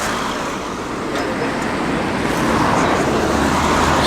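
A classic Bedford CF truck passes by on a wet road in the rain, giving a steady broadband swish of tyres on water and road noise that swells gradually toward the end, with no talk.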